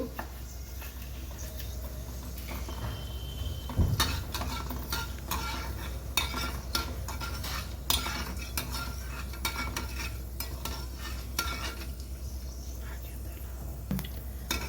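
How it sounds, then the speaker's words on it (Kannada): Fenugreek seeds roast in a hot pan with a soft sizzle, while a spoon scrapes and clinks against the metal in steady, repeated stirring strokes. "ಫಸ್ಟ್ ನಾನು ಮೆಂತೆ ಹಾಕ್ತಾಯಿದ್ದೀನಿ. ಇದು ಪರಿಮಳ ಬರೋವರೆಗೂ ಹುರಿಬೇಕು."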